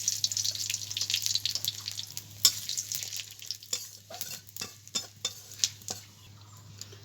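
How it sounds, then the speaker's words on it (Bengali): Bay leaf and whole cumin tempering in hot mustard oil in a kadai, a bright sizzling hiss that settles into scattered spatula taps and stirs against the pan, close and moderate, without speech. "কড়াইতে তেল দিয়ে দিচ্ছি, সর্ষের তেল। বন্ধুরা ফোড়নে দিচ্ছি আমি তেজপাতা, আর দিয়ে দেবো গোটা জিরে।"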